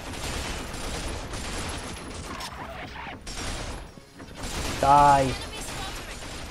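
Gunfire in the Binary Domain shooter, with rapid bursts and mechanical clatter in loud waves that peak near the end, while a voice briefly speaks over it.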